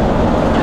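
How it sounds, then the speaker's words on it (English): A loud, short blast from the air horn on a 1997 Safari Trek Pathmaker 2480 motorhome with a 454 V8, held steady for under a second with no talk over it. "It's got a nice little air horn, kind of like a diesel pusher."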